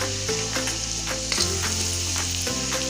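Onions sizzle loudly and continuously as they fry in oil with turmeric added, a dense crackling hiss over steady background music.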